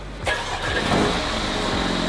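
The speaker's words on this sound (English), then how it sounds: "Start the car up, get it off the truck." A 2020 Mercedes A35 AMG, bought wrecked, cranks and fires up on a truck, catching with a sharp burst and then settling into a steady, loud idle rumble close by.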